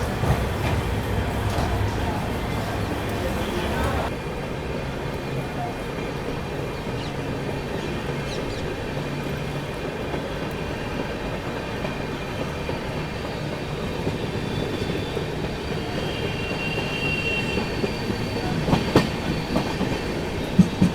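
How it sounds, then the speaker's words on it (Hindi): Punjab Mail express train pulling out of Morena railway station and picking up speed, a steady loud rumble of wheels and carriages with rhythmic clatter over rail joints throughout. "बाकी गाड़ी अपनी मुरैना से निकल चुकी है और निकलते ही बढ़िया रफ्तार बना लिया भाई।"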